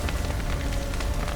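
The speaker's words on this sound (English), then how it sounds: "Looks like rain." Steady rainfall in The Witcher 3: Wild Hunt, a dense continuous hiss with low rumble, even and unbroken throughout with no talking.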